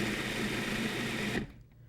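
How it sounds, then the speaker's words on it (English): A meat grinder grinds meat for cappelletti filling, a steady loud motorized whir with a dense mechanical buzz that runs continuously, then cuts off abruptly near the end, leaving a quiet room. "or you can do it with a meat grinder. Now we want to grind up the meats."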